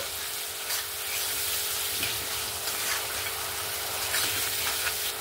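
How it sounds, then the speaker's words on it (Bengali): Potatoes coated in mustard paste masala frying in a pan, a continuous close sizzle with soft scraping as they are stirred and turned, with no talking. "এবার আলুটার সঙ্গে সর্ষে বাটা মশলার সঙ্গে ভালো করে একটু নাড়াচাড়া করে নেব"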